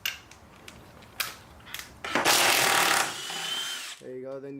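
A power tool works a bolt loose from a small bracket on an Acura Integra, a few short sharp bursts followed by a louder sustained whir, then a brief tonal whine at the end.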